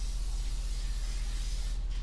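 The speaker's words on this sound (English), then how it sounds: "first I'm just gonna give it a light spray" A light spray of cooking spray onto a dish, one steady, close hissing burst lasting about two seconds over a faint low hum, with no talking.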